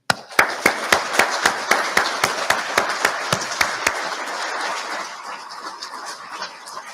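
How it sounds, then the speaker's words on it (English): A crowd applauds Vietnam War veterans, their families and guests at the National 50th Anniversary Commemoration of the Vietnam War. Sharp, evenly spaced claps stand out at first, then fade into a softer, sustained wash of clapping. "Please join me in a resounding round of applause for these great veterans and their families and guests"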